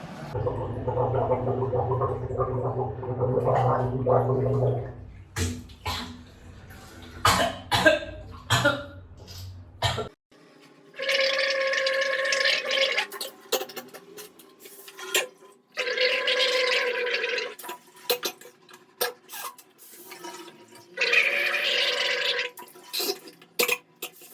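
Bubbly bursts of gargling with salt water alternate with coughs, throat clearing and spitting, with water splashing into a basin between bouts.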